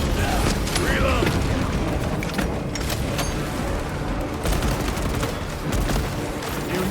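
Weapon reloading in Warhammer 40,000: Space Marine 2, metallic mechanical clacks and clicks layered over dense battle noise with gunfire bursts and a brief voice, continuous and loud.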